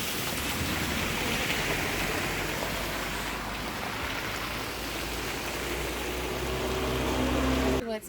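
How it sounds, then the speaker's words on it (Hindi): Heavy rain in Khajjiar, a hill meadow near Dalhousie in Himachal Pradesh, a loud steady hiss of downpour filling the whole stretch before cutting off abruptly at the very end. "बहुत बारिश है, हम तो पूरे भीग के पहुंच जाएंगे अब।"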